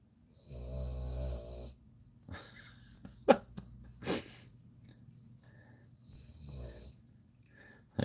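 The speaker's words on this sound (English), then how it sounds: "Listen to the dog snore." A dog snores in a quiet room during a live miniature painting session, with two long, low, rumbling snores a few seconds apart and a few small clicks and thumps between them.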